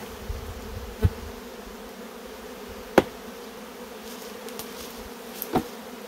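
Honey bees hum softly and steadily in and around an opened beehive stacked on a floor and stand, a low continuous drone broken by a few sharp knocks as boxes are tapped.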